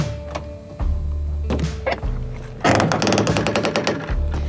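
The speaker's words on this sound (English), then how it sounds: "These doors haven't been opened in quite a few months." Van doors on a camper parked in the desert near Sedona, shut for months, are worked open: heavy thunks and clunks, then a loud, fast rattling burst of metallic clatter, close by with no talk.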